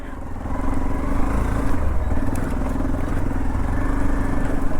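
Two motorcycles ride along a road near Hyderabad, their engines a steady close mid-pitched drone with slight revving and wind rush, running continuously with no talk.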